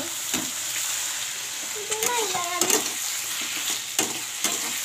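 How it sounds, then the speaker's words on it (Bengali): An egg fries in a hot pan beside a second burner where onions cook for a dry-fish chutney, giving a steady, close sizzle with a few brief stirring scrapes and clinks; no one speaks. "আর এই পাশে আমি ডিমটা ফ্রাই করে নিচ্ছি"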